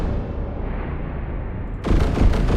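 Video game cannon fire with debris layered in Wwise: a steady low rumble gives way to a loud burst of rapid, booming shots with crumbling impacts near the end.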